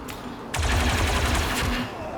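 Rapid gunfire bursts in the Star Wars Zero Company video game, a dense crackling volley of shots over a steady low hum, loud and close for about a second and a half.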